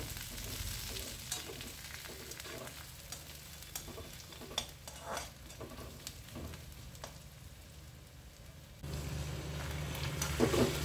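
Onion and two bay leaves fry lightly in hot oil, giving a continuous close sizzle with occasional stirring scrapes, getting a little louder near the end.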